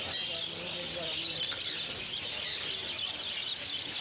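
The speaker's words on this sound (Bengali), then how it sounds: "দেখতে পাচ্ছেন কত বদ্রি আছে সুন্দর সুন্দর পাখি" Dense chorus of budgerigars and other pet birds chirping and twittering together at the Garia bird market, a steady bright wash of overlapping calls with a faint murmur of people in the background.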